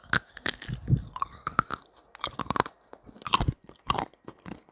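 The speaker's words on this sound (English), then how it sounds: "The sound of chocolate candies." Close, crisp crunching and chewing of chocolate candies in short bursts with small pauses between, like hard-shelled sweets being bitten and munched.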